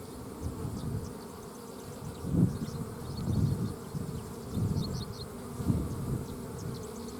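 Honey bees buzz steadily in a hive over freshly drawn comb, a soft continuous hum with gentle swells, faint and close, with no talking.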